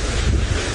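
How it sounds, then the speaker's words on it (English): Strong wind gusts blowing outdoors during an evening safari drive, a loud steady rush buffeting the microphone with low rumble and no talk. "It really is getting rather windery and blustery out here."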